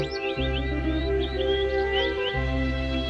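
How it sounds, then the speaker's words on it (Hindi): Faint cartoon birdsong drifts in from a distance, a series of quick high chirps and tweets scattered across a few seconds over a steady tonal background bed. "दूर से आती है चिड़िया की आवाज।"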